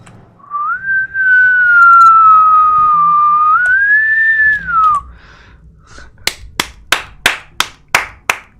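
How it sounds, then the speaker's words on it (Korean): A person whistles one long, gliding melodic tone into a microphone to steer the voice-controlled game One Hand Clapping, holding it steadily for several seconds, then a quick run of about seven sharp, evenly spaced claps or knocks follows. "야 휘파람이네"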